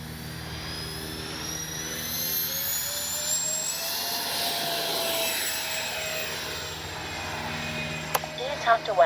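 A Freewing 80mm A-10 V2 RC jet takes off, a loud sustained whine from its electric ducted fans rising in pitch and swelling, ending with a few knocks and clatters.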